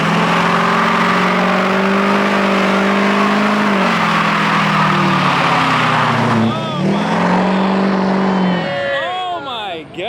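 A Nissan revs hard and spins its wheels at a car meet, its loud engine note climbing and wavering with the throttle, then swooping down. Tire squeal rises toward the end, and people talk throughout.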